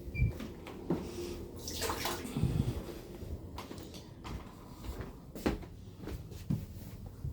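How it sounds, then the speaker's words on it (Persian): Juice sloshes and splashes as it is poured into a toilet, irregular gushes with soft knocks and thumps of the container, close but fairly quiet, without speech. "اینو میخوام بریزم توی دستشویی بره"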